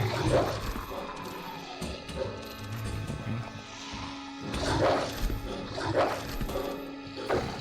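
A dog barks in the Resident Evil 2 Remake Shadow of the Dead Reborn mod, several sharp yelps and whimpers in bursts amid game noises and clattering.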